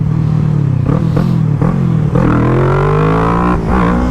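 Loud Kawasaki Z650 or Honda CBR 600RR motorcycle engine revving hard during a wheelie attempt, pitch climbing steadily with brief throttle chops, no talking.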